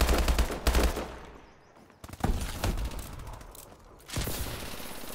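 HBR rifle fire in a first-person shooter game rattles in rapid, loud bursts, pausing briefly between volleys before resuming with steady automatic shots.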